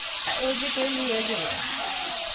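Fish sizzles steadily in a hot pan with oil, a continuous bright frying hiss close up, while women chat in Bengali over the cooking.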